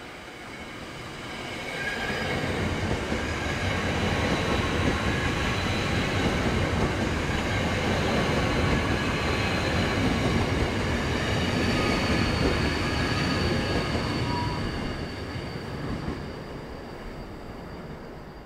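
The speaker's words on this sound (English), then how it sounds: "a quick, independent look at part of the Auckland commuter rail network and the AM electric multiple units" Auckland AM class electric multiple unit riding between Newmarket and Baldwin Avenue, a steady interior rumble with rail noise and faint wheel squeal, rising in and holding loud before easing off near the end, no talking.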